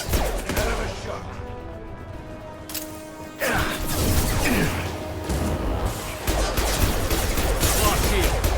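Weapon fire in the game Mass Effect 2 Legendary Edition, a dense run of shots and impacts layered over game music, steady and loud throughout the clip.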